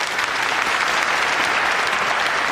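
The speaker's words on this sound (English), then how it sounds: "Give him a round of applause, please." Steady, dense applause from a theatre audience fills the space, loud and even throughout with no break, introducing a demonologist at a historic Liverpool venue.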